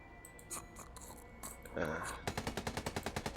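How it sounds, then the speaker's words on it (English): A few soft murmurs and clicks, then a rapid burst of automatic gunfire in a video game, evenly spaced sharp shots rattling off in a quick rhythm. "And then gunfire."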